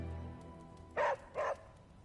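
Two short, close dog barks from a hellhound puppy in a video game, evenly spaced and standing out clearly over a low background hum.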